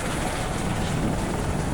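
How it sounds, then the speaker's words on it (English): Steady, continuous helicopter rotor and engine noise overhead, broad and rumbling, filling the whole stretch without letup and with no voices. "you could hear that helicopter"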